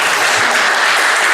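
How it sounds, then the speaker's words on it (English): Meetup audience applauds in a short, loud, dense burst of many hands that stays even throughout. "I simply cannot present without applause"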